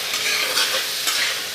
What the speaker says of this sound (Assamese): ভালদৰে অলপ সময় ভাজি ল'ম